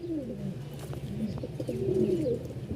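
English runner pigeons cooing steadily and close by, overlapping low throaty coos rolling on without pause over a faint background hum.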